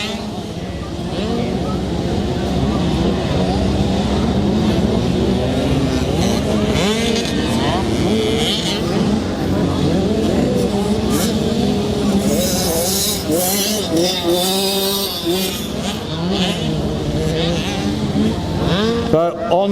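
Several 65cc motocross bikes climb a hill on the final lap of a race, engines revving and whining with rising and falling pitch, fairly close and loud, while a commentator talks over them throughout.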